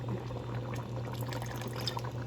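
Fish sauce (patis) trickles steadily into a cooking pot of sautéed mung beans, a soft continuous liquid pour over a low steady hum, with no talking.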